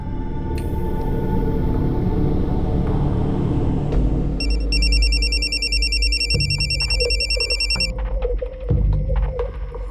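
A telephone rings in repeated electronic bursts over a low rumbling background, continuing for several seconds with no one picking up.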